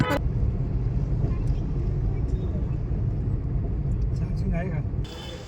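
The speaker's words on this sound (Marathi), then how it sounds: "ट्रॅफिक खूप जास्त आहे" Heavy road traffic near a temple in Wagholi rumbles steadily, a dense low roar of passing vehicles with someone talking over it.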